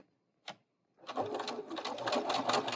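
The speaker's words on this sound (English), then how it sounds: "I'm going to sew 1/4 inch on each side" A sewing machine stitches a quarter-inch seam on quilting fabric for half-square triangles, with a single brief tap before a steady, close, rapid mechanical chatter runs continuously.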